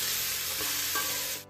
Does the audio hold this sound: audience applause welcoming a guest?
no